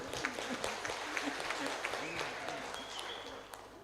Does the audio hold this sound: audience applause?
yes